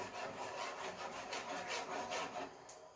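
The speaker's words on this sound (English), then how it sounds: "And don't do this with a metal spoon like I just did." A metal spoon scrapes browned fond off the bottom of a cooking pot in quick repeated strokes, a gritty rasping rhythm, close and alone.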